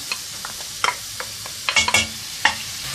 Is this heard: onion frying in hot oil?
yes